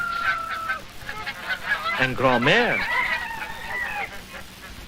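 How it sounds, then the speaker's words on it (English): Geese honk and fowl cluck in a busy farmyard chorus, with a voice speaking briefly over the birds. "his flocks of geese and chickens"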